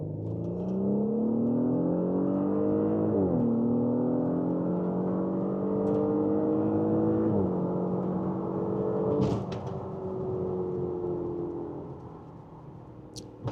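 A BMW X3 M40i or Audi SQ5 SUV in dynamic mode accelerates hard from inside the cabin, its engine pitch climbing through long gears with three distinct upshifts that drop the tone before it winds out again, loud and steady with no talk.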